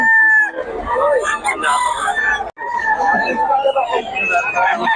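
A young stag rooster crows loudly and close, one long strained crow followed by another, with people talking in the background throughout.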